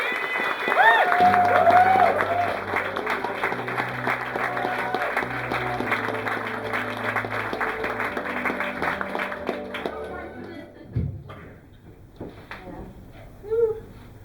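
A crowd applauds loudly and steadily for about ten seconds, with some cheering, then the clapping fades into scattered sounds and a few voices.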